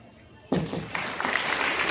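Applause breaks out at a school safety-week gathering, a sudden burst of clapping from a crowd that swells and holds steady after a quiet start.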